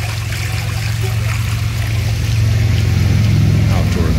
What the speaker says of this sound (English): The sound of the water is so tranquil.